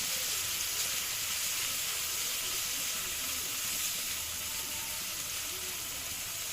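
Garlic paste frying in a pan with spices going in, a steady close hiss and sizzle that holds at an even level throughout, with faint low clatter underneath.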